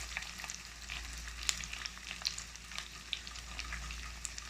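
Chopped onions, green chillies and curry leaves fry in a hot pan for a prawn curry, giving a low, steady crackling sizzle with occasional sharper pops and no talking.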